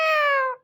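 A pet parrot imitates a cat's meow: one loud, close, drawn-out meow that slides slightly downward and ends after just over half a second.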